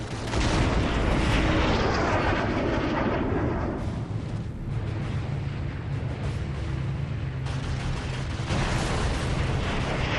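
A loud, continuous roar of explosions and heavy booms, dense rumbling noise with sharper bursts, like a wartime aircraft blowing apart amid gunfire, as a B-17's starboard engine explodes.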